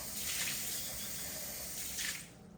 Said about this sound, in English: Best way is to rinse it out with the RO water.